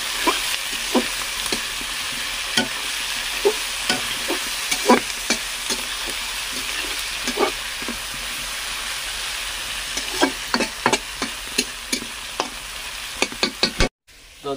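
Onions being stirred and fried in a pan, a continuous sizzle punctuated by sharp scraping and tapping strokes of the spoon, growing busier toward the end before a brief cutoff.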